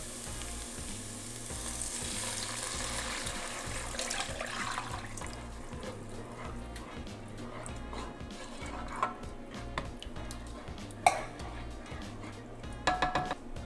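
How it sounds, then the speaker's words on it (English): Vegetable stock is poured into a cooking pot for collard greens, a steady liquid splash and sizzle running continuously with a low hum, ending with a few clinks near the end. "Here I have a little over 2 cups of vegetable stock. I'm gonna pour that into here"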